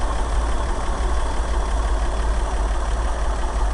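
A 1965 International R185 truck engine with a big Holley four-barrel carburetor idles steadily, a close, even, continuous rumbling drone with no voices.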